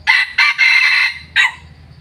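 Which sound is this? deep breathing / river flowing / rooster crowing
rooster crowing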